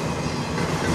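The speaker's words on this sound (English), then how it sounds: "if I'm going to get some blizzard trains" A CN intermodal freight train hauled by CN 3881 and CN 2225 locomotives rumbles past near Sarnia, Ontario, in windy blizzard conditions, a dense, continuous roar of wheels and cars for a brief moment.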